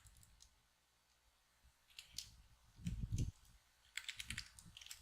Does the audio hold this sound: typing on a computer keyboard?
yes